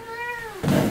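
A Devon Rex cat gives one drawn-out, falling meow, up close and clear, followed by a brief burst of rustling noise.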